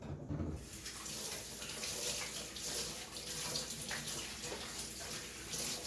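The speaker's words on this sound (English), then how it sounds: "I'm gonna wash my hands real quick" A kitchen tap runs steadily while hands are washed during bread baking, a close, continuous splashing rush of water that starts abruptly and keeps going to the end.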